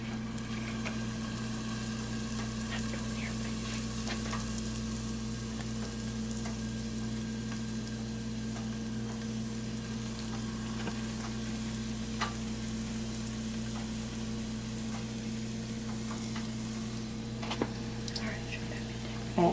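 Jamaican whole wheat fried dumplings sizzle steadily in hot oil in a pot, a constant crackling fry with occasional pops over a low electrical hum.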